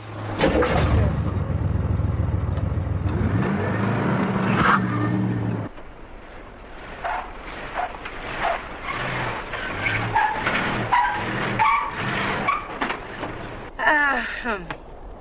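A racing car's engine roars loudly and steadily before cutting off, followed by lighter mechanical clatter and a short burst of tire skidding near the end.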